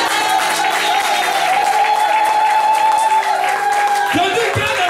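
A crowd of men applauding and cheering in a church hall, continuous loud clapping with voices rising over it and a sustained shout running through the middle.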